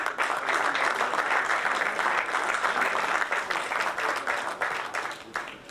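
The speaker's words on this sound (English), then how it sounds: "Let's give them another round of applause, ladies and gentlemen, before we end this occasion" Sustained applause from a ceremony audience at a stock exchange listing event, a dense, even wash of many hands clapping that holds steady throughout before tapering slightly at the end.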